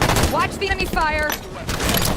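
Enemy gunfire in a Halo 5 Big Team Battle match, loud dense bursts of shots mixed with game effects, while voices talk over the firing.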